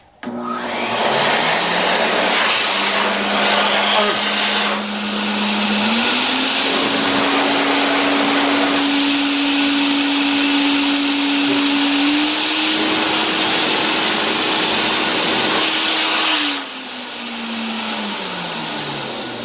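Lemmer T-75q HVLP turbine blowing a strong, steady rush of air, its whine stepping up through speeds and then winding down near the end; loud and close with no talking.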